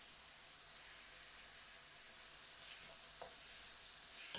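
Carrots and shiitake mushrooms sauté in a pan with a soft, steady hissing sizzle, faint and continuous, with a few light stirring taps near the end.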